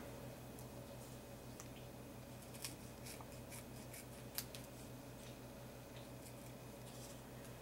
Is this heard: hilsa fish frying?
no